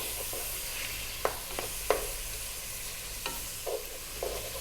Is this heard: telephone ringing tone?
no